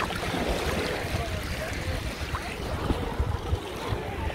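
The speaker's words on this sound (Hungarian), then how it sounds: "Igen, ez egy kis szél van, akkor vannak hullámok." Small waves stirred by a light wind lap against the shore or a boat, a continuous low wash under gusty wind noise on the microphone.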